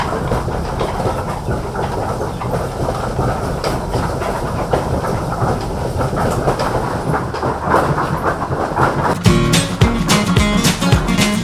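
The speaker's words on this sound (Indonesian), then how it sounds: "tempat penggilingan beras keluarga Pak Hafif ini mampu menghaluskan sekitar 100 liter beras" A rice milling machine grinds rice into flour at a family-run mill, a loud, steady, rattling mechanical drone with rhythmic clatter throughout, shifting to a harsher, more tonal grind near the end.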